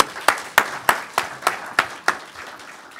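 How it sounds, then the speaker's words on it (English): Applause greeting a keynote speaker at a conference, heard as a short run of about eight distinct, evenly spaced claps that fade out after two seconds, sounding like one or a few people clapping rather than a full crowd. "So without further ado, a round of applause for our keynote."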